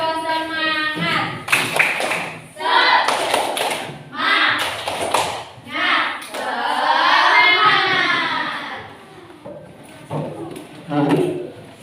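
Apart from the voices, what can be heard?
class doing a rhythmic spirit clap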